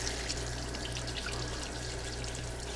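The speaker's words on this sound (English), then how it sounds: "let's get busy washing off these poblanos, getting all that off of there" Tap water runs steadily over charred poblano peppers being rinsed clean in a kitchen sink, a continuous close splashing wash with no talking.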